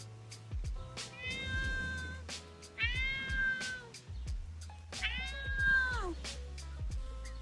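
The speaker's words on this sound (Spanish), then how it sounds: "¡Uy, un gato!" A cat meows loudly and close by, three drawn-out calls with a wailing, caterwaul edge, set over a low steady hum.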